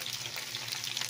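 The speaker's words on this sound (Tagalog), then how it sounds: "Ayan, ating prito siumay." Siomai fries in a pan of hot oil, giving a steady close crackling sizzle with no talking.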